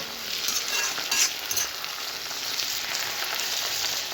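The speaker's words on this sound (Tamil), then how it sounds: "கீரை நல்லா எண்ணெயில் வதங்கிருச்சு" Spinach sautéing in oil in a pan for keerai chutney, a steady close sizzle with soft crackle, faint stirring scrapes near the start, continuous and fairly loud with no voices.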